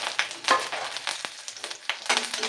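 Chana dal, urad dal, small dried chilies and curry leaves frying in hot oil for a South Indian poriyal, a steady close crackling sizzle broken by sharp pops and stirring scrapes.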